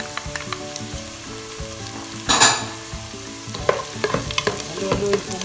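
Plenty of garlic and onion fry in a pan until browning, a steady close sizzle broken by spoon scrapes and one louder burst of hissing midway.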